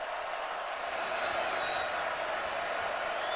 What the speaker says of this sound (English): You hear this crowd start to get into the game just a bit